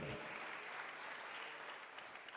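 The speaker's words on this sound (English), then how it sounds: "Let's give her another round of applause" A fresh round of applause from an audience at a disability inclusion gathering, dense steady clapping that starts abruptly and holds throughout, tapering slightly toward the end.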